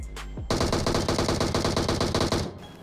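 A brief sharp report gives way to a loud, steady stream of rapid gunfire that runs for about two seconds in a PUBG Mobile match, where Kar98 rifle shots are being fired, with no talk over it.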